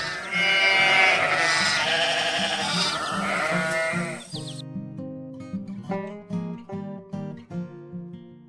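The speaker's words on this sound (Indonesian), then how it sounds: "Lihat domba yang sedang dijaga." Sheep on a farm bleating repeatedly, loud and close, with overlapping calls in a shifting rhythm.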